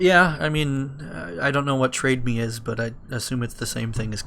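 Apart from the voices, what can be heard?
No everyday noises stand out.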